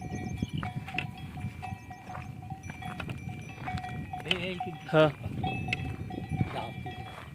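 Cattle and bullocks grazing outdoors with cowbells that clank on and off in a hollow, ringing pattern, fairly close, while people chat and laugh over them.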